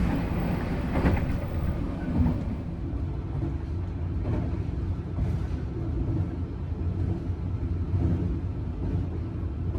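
The Dharmawangsa executive passenger train runs on rails toward the Cirebon–Semarang northern line, a steady loud interior rumble with rhythmic wheel clatter and brief clunks, no voices.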